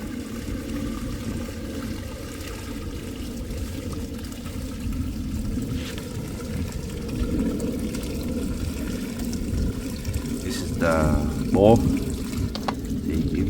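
Water pours steadily into a plant pot and drains down through a mesh liner, a continuous gurgling trickle throughout with a brief splashier burst near the end.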